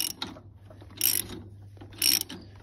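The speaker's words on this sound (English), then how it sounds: "I probably can go ahead and go over to my ratchet now that I've broken that loose" Ratchet wrench clicking as it loosens a stuck bolt on a Cub Cadet engine, two bursts of rapid pawl ratcheting about a second apart over a faint low hum.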